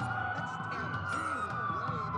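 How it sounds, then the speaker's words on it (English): Police sirens wail in a city during a blackout in the video game Watch Dogs, several overlapping sirens cycling up and down loudly under a steady low engine-like rumble. "That's a lot of sirens for a blackout."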